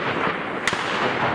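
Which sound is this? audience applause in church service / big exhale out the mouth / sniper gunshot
sniper gunshot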